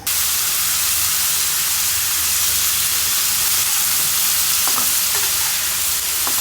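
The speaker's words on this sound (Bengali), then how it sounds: "করলা ভাজি না এত নাড়তে হয় না বাবা" Bitter gourd (karela) frying in a pan gives a loud, dense, hissing sizzle that stays constant and close, with a few faint stirring scrapes near the end.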